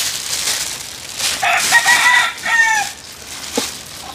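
Chicken at a home where chicken, fish and goat are being cleaned and seasoned for guests, crowing and clucking in short bursts that sound fairly close, with a quieter cluck near the end.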